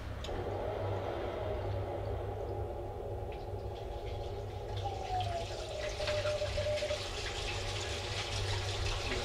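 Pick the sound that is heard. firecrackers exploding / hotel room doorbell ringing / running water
running water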